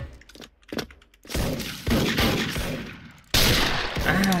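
Sniper rifle shots in the video game Special Force (SF) from an MSG-90 DMR, several loud, sharp reports with rumbling tails, a couple of them close together and one heavy blast near the end.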